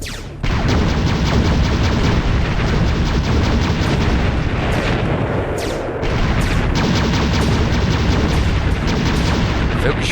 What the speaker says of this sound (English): Standard buildings are quite easy to blow up